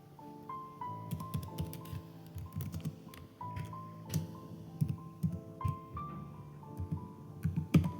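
Code being typed on a computer keyboard for an Arduino vehicle crash prevention project, with close, quiet clicks in uneven bursts over a steady low electronic hum and tonal background.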